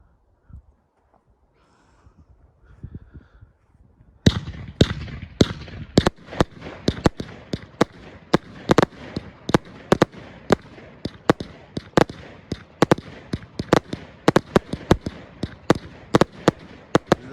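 A 50-shot firework cake goes off outdoors in the UK after a quiet lead-in, loud sharp bangs firing in a rapid, uneven string that keeps going to the end.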